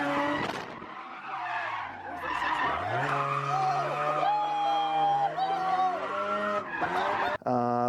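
Low-power drift car of about 20 horsepower skidding, a loud sustained tire squeal that slides and bends in pitch for several seconds over a droning engine, with a brief cut near the end.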